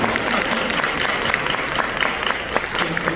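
An audience at a church conference on developmental disabilities applauds steadily for a pastor's wife seated at the back of the hall, a dense, even wash of clapping from a sizeable crowd that carries on for the whole stretch without letting up.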